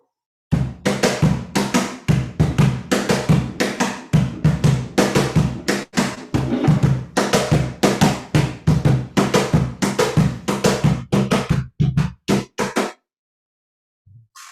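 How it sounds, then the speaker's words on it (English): A cajon drum plays a Peruvian festejo rhythm, with sharp, dry, close slaps and bass tones in a fast, syncopated dance pattern that stops abruptly near the end. "So festejo sounds like this."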